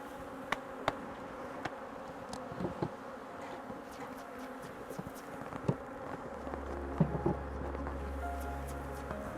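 Honey bees buzz steadily around an open hive during organic honey production in Fujairah, with a dense insect drone, scattered nearby bee passes and faint handling sounds from the frames.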